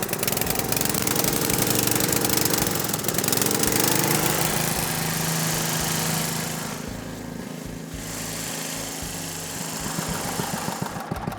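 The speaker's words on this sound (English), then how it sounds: "the mover's got a motor on it" A motor on a wheel line irrigation mover runs steadily in an alfalfa field, a loud continuous engine drone with rough knocking pulses that eases slightly partway through.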